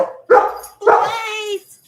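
A household dog gives two loud barks close by, the second one longer and whining, with a short pause between them.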